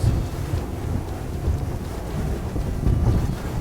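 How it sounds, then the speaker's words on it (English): A 32-foot speedboat's twin 300R outboard engines roar steadily under heavy wind buffeting and the rush of water against the hull, loud and close throughout. "Fast with twin 300Rs, 32-foot boat. This thing moves."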